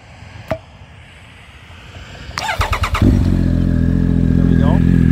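Triumph Speed Triple 1050 motorcycle with an SC Project exhaust starting up: a faint click, the starter cranking, then the engine catching into a loud, steady close idle.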